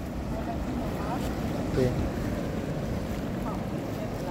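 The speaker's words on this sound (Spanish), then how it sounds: "Allá va la lancha, mire, con todos los poderes." A motorboat runs at full throttle on an estuary, heard as a faint, distant engine drone beneath steady wind noise and outdoor ambience, with a brief spoken word from a nearby person.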